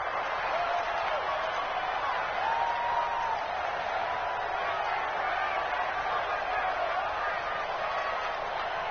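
Steady stadium crowd roar in a football video game before a big third down, a continuous broad wash of cheering that holds at an even level throughout.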